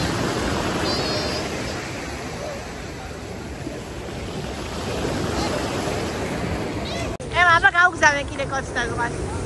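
Sea waves wash onto the shore in a steady, broad surf hiss for several seconds. Near the end, a voice breaks in over the fading surge.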